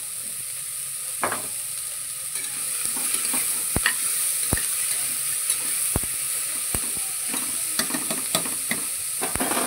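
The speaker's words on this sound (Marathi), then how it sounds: "भाज्या आपल्या छान फ्राय झालेल्या आहेत" Mixed vegetables for pulao fry in oil in a pan with a continuous hiss, while repeated scraping and clinking strokes of a stirring spoon land at irregular intervals, close and moderately loud.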